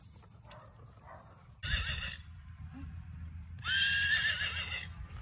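A horse neighing outdoors, two loud whinnies a couple of seconds apart, close by over low background noise.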